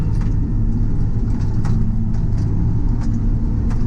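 A 22-year-old Krone Big M self-propelled mower engine rumbles loud and steady while cutting an almost 20-acre field, a dense low drone with faint rattles over it.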